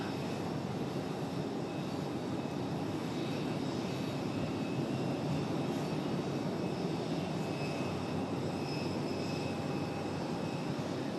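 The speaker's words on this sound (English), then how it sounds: "Got an A321 headed out to the end of the runway for American Airlines." An American Airlines Airbus A321 taxis toward the end of the runway at Raleigh-Durham International Airport, with a continuous loud jet engine roar and whine holding steady throughout and no voices.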